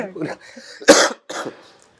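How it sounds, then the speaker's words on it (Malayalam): A single sharp cough bursts out between bits of quiet talk from a nearby speaker. "അപ്പൊ ചെറിയ ചുമയൊക്കെ"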